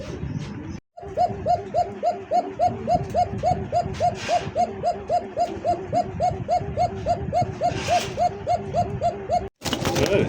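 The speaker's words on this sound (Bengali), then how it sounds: "দেখলেন তো কবুতরটা যে ডাক একটু আগে দেখাইলাম" Pigeons at a Bangladeshi pigeon farm coo steadily and close, a rapid rhythmic string of repeated low calls filling nearly the whole stretch, pausing briefly near the start and end.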